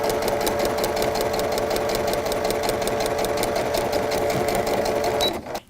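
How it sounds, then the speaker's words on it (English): A sewing machine runs steadily along a stitching line, its needle hammering in a fast, even rhythm for about five seconds before it abruptly stops. "And then go ahead and start sewing."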